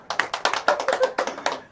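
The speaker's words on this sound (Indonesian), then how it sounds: "Ya kasih tepuk tangan lagi buat beliau juga" An audience claps for a performer at an Indonesian stand-up comedy show, with close, steady, fairly loud claps in a quick, slightly uneven rhythm over a short stretch.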